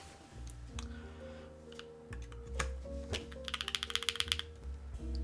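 Typing on a Neo75 Cu keyboard fitted with Gateron Type R switches: a quick burst of crisp, close clicks in rapid rhythm toward the end, following scattered single keystrokes over a low steady hum.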